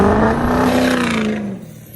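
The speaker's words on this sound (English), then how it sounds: "The base engine sounds fine" Ford 6.0 Powerstroke diesel engine in a Super Duty truck runs at a steady idle with a rising whine, close and fairly loud, fading slightly at the end.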